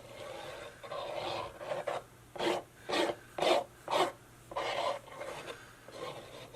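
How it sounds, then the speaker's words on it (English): Paper rasps in a series of short, rhythmic strokes, close and moderately loud, with brief gaps between the scratches as a paper box is assembled. "Sounds like I'm scratching the paper"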